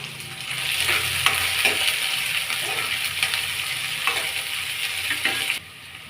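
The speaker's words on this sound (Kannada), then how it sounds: "ಈಗ ಒಣಮೆಣಸಿನ್ಕಾಯಿ ಹಾಕಿ ಕೆಂಪುಗೆ ಫ್ರೈ ಮಾಡ್ಕೋಬೇಕು" Dried red chillies frying in hot oil, a loud continuous crackling sizzle with spoon stirring strokes, close up and alone, cutting off sharply near the end.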